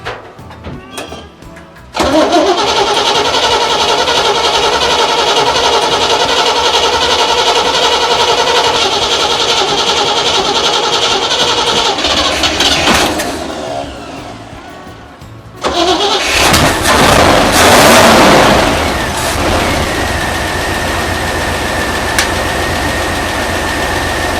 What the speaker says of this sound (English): now we need to fire it up, make sure it still runs